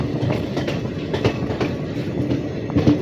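Steady rumble and rhythmic clickety-clack of wheels heard from inside a carriage of the Nandigram Express as it runs along the track, loud and continuous with no talking.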